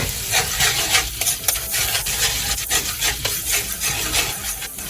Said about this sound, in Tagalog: Tapos haluin lang po natin yan ngayon.